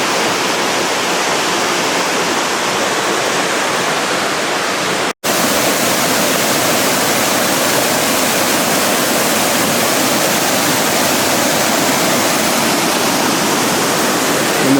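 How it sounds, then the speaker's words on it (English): A rainforest waterfall roars as steady, dense broadband rushing water, loud and close throughout, with a single brief dropout partway through and no voices. "And there's another waterfall down here."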